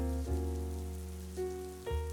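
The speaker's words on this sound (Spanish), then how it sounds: "empieza a llover despacio y se escuchan las gotas sobre el techo de la camper" Light rain pattering on the roof of a camper van parked in Scotland, a soft steady patter with a few brief louder swells, over a continuous low tonal hum.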